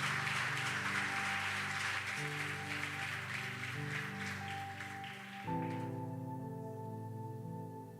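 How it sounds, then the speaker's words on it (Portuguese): Church congregation applauding during a worship service, a broad wash of clapping over sustained keyboard or organ chords that thins out after about five seconds while the music carries on. "aplauda Jesus."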